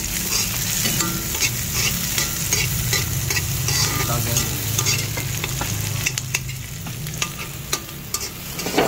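Pechay greens frying in a pan while being stirred, a steady close sizzle broken by repeated scraping and clinking of a utensil against the pan.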